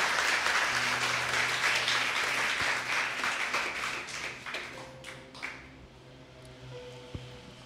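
Church congregation applauding the Lord at a Spanish-language service, dense clapping that thins out and fades over several seconds, with faint background tones and a brief voice near the end.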